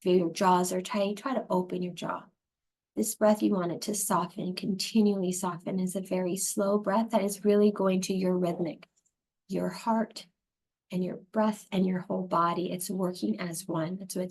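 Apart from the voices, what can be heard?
No distinct noise like a dog, phone or traffic.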